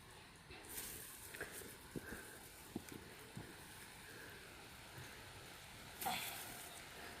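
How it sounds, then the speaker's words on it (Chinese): Rain patters faintly and steadily over a field where garlic is being planted, a soft continuous hiss with a few louder drops and rustles, and brief voices nearby. "雨过来了"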